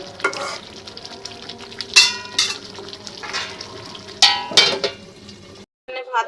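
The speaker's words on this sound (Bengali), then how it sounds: "মুরগি সাথে আলু দিয়ে দিছি ভালো করে মশলাটা কষায় পরে দেবো" Chicken and potatoes stir-fried with spices in a pan, loud scraping stirs with metallic clinks against a quieter frying hiss, irregular strokes close by, then a brief silence before the stirring resumes.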